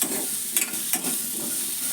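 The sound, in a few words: tempering spices frying in oil: red chilies, urad dal, mustard, cumin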